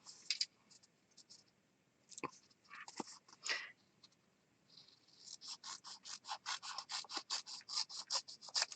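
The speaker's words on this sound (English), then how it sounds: "I'm going to go ahead and trim off the bottom" Scissors trim off the bottom of a paper sheet, a few scattered snips and rustles at first, then a quick, regular run of close, crisp cuts, fairly quiet, with no voices.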